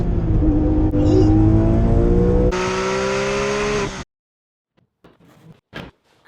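2007 Porsche 911 997 GT3 RS with a manual gearbox, its engine revving hard and loud close by, rising through two strong pulls before cutting off abruptly, followed by a few quieter blips.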